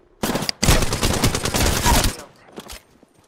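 Rapid gunfire in the MIRAGE.exe video game, a dense automatic burst lasting nearly two seconds after a single opening shot, then a few trailing pops fading out.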